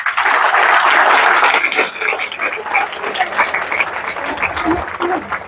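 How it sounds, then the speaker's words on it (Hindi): An audience claps at a motivational talk on RCM, dense applause loud for the first two seconds, then thinning into scattered claps that trail off over the rest. "एक बार ताली बजाइए साहब।"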